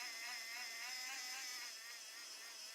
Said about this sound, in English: So the motor is extruding the plastic out